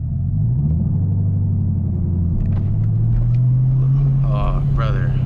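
A Chevrolet Camaro ZL1 with a six-speed manual roars close by, windows down, its pitch rising steadily as it speeds up, with wind noise and brief voices near the end.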